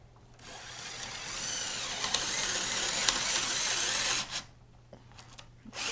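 A cordless drill driver sinking screws into a wooden bed frame, its clutch slipping and the motor whirring steadily for about four seconds before stopping, then a few faint clicks.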